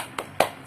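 Two quick hand claps, close and crisp, spaced a fraction of a second apart against a faint background hiss.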